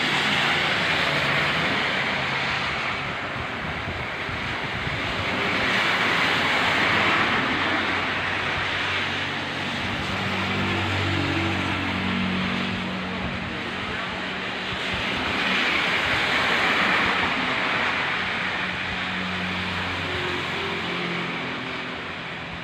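Strong typhoon wind in Taiwan rushes and roars steadily in broad gusts that swell and ease, with someone talking faintly beneath it.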